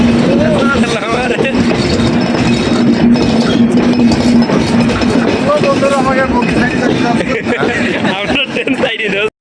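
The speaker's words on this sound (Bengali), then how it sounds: "তো গাইজ ট্রেন চলে আসছে, চলুন ঝটপট ট্রেনে গিয়ে ওঠা যাক।" A train pulls into a busy railway station in Bansal, Dhaka, with a steady engine hum and rail clatter under constant crowd chatter and voices throughout.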